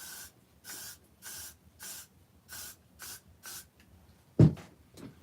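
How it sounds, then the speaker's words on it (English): Short bursts of hair spray hiss under the synthetic hair of a Trick or Treat Studios Michael Myers mask, about eight evenly spaced sprays close by, followed by a sharp handling knock. "Underneath, I'm going to put a spray underneath of this."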